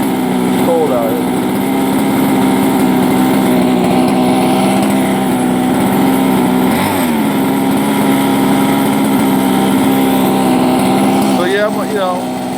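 A King Motors X2 gas RC car with a custom build revs its small engine outdoors in the cold on a street, a steady buzzing drone rising and falling with throttle blips near the middle and end.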